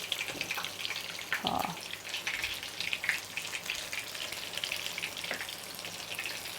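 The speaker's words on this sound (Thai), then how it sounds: "เดี๋ยวเราทอดต่ออีกสัก5ลูกเนาะ" Battered bananas frying in hot oil, a soft steady crackle and hiss with a few brief louder bursts, fairly faint and close, with no talking.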